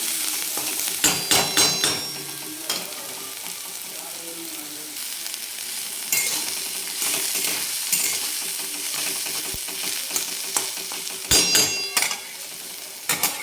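Onion sautéing in a little oil for a prawn chutney, a steady sizzle broken by loud metallic scrapes and clanks of a spatula against the pan, with no voices.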